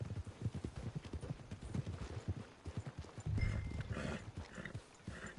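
Horse hooves clip-clop steadily on the way to the stables in the Red Dead Redemption 2 video game, a close, even walking rhythm with a brief swell of louder sound partway through.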